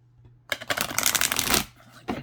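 Large Black Moon astrology cards are riffled and shuffled by hand, making a dense, close, papery flutter that lasts about a second before a brief final snap.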